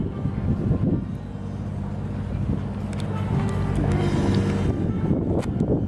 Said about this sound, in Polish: Nawet takie łódki pływają.